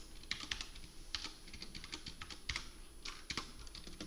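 Keys on a computer keyboard clack in quick irregular bursts at close range, with a few sharper presses standing out, as when striking the spacebar or tab to indent code; quiet, no talk.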